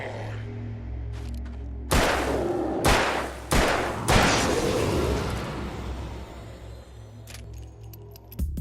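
Gunfire in the video game Alan Wake: several heavy, booming shots ring out one after another over a low, steady game soundscape, and each blast leaves a long reverberating tail.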